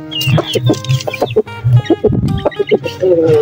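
A chicken, a new bird kept in a coop, clucks repeatedly up close in quick, uneven bursts, with a little faint talk mixed in.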